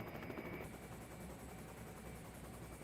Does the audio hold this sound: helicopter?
yes